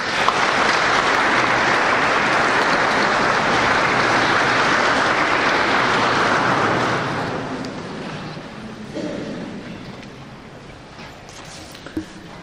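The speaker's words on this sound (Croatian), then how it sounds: "jednim tihim pljeskom, jer smo u crkvi, baš nekim tihim pljeskom, pozdravimo fra Matu Logar" Quiet applause from a church congregation during an evening lecture, a soft even patter of many hands that fades out after about seven seconds, leaving faint room noise and a single knock.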